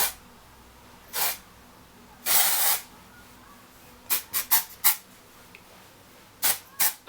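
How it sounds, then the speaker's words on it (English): Divine Definition dry texture spray misted onto curly hair in several hissing bursts, two longer sprays followed by a run of quick short puffs, close and fairly loud against a quiet room. "This is a Divine Definition spray, and it's just kind of like a dry spray."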